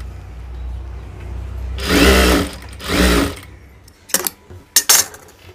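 A sewing machine stitches a trouser seam along a marked line in two short, loud whirring bursts, followed by a few sharp clicks and knocks of handling.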